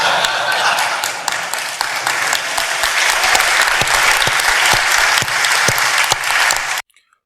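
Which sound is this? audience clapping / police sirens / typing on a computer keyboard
audience clapping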